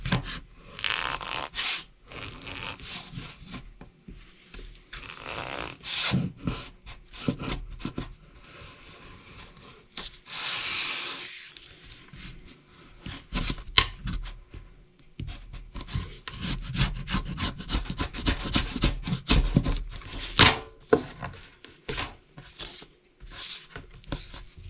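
A chisel or knife scrapes residue off plastic roof trim on an SUV in short, uneven rasping strokes, some quick and clustered and others spaced apart, close by and without talk.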